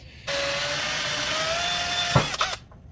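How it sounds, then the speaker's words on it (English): A power drill bores a hole into hard plastic for a homemade glow stick launcher, a steady high whine held for about two seconds, then a short bump and a brief lower spin before it stops. "now what we need to do is drill a hole as well as seal the existing hole that used to be there"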